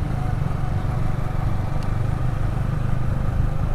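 Continuous motorcycle engine rumble while riding through Batam at night, steady and close with road noise throughout.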